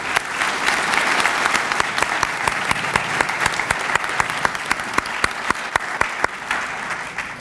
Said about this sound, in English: if we can give a round of applause for our inductees